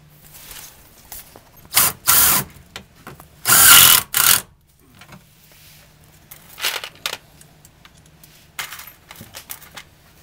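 A power drill drives screws into a Ford Transit running board bracket, giving several loud, close whirring bursts of a second or so each, separated by pauses with faint handling noise.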